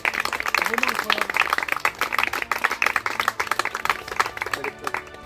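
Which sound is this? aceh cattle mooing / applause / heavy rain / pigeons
applause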